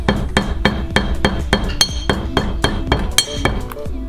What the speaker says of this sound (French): Tu prends le marteau et tu tapes tes deux tranches.